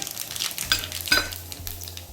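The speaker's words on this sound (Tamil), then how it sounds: "எண்ணெய் சூடாயிடுச்சு. கடுகு சீரகமும் இதில் சேர்த்துக்கிறோம்." Mustard seeds and cumin crackle and sizzle in hot oil while tempering for pongal sambar, with quick bursts of popping over a low hiss and a faint clink of a utensil.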